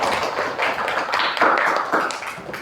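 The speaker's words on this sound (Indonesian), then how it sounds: "Beri tepuk tangan untuk kita semuanya." A classroom group claps together for a couple of seconds, a close, loud burst of overlapping hand claps with an uneven rhythm and no voices.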